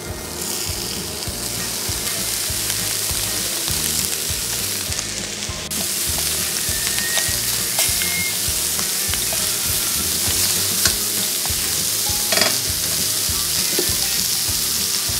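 Slices of duck breast fry in a very hot pan, giving a dense, continuous close sizzle and crackle that holds steady throughout, with faint occasional clicks and no voices.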